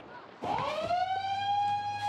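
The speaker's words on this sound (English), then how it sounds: "we're sounding the alarm now" Shark alarm siren at Bondi Beach kicks in loudly and rises into a steady, piercing electronic wail that holds without a break.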